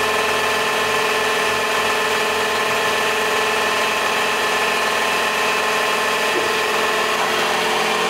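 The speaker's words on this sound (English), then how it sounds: "There goes the outlet pump." Outlet pump on an EFI 64 kW oil system running, a loud, steady mechanical drone with constant tonal whine that fills the whole moment, with no talk.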